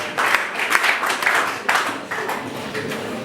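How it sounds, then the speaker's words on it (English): A group claps for their English teachers, steady dense applause lasting a few seconds at moderate volume with no speech over it. "So let us clap to our English teachers as well."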